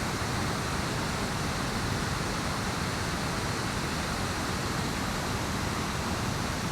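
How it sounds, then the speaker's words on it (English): A constant heavy roar of rushing water from the Indian Leap falls in Norwich, running high and raging after a couple of days of torrential rain, stays loud and even throughout with no pause. "raging right now because we had a torrential rain for a couple of days"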